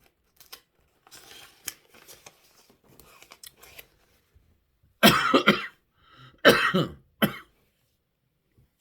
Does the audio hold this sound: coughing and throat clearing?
yes